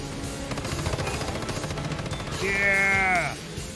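Rapid automatic gunfire from a boss fight in the video game Once Human, a dense rattling burst over music and game effects, loud and close, with a rising electronic tone near the end.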